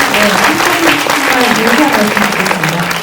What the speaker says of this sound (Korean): 축하드리는 의미에서 박수 쳐주시고요